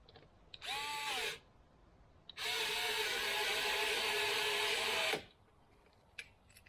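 A power drill with a Torx bit driving screws into a Jeep Wrangler JLU satellite antenna bracket: a short whirring burst, a pause, then a longer steady run that stops abruptly, followed by faint clicks.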